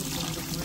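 Water splashed into a pan of frying onions for goulash, a brief steady pouring hiss and bubble over a low sizzle, close and fairly quiet.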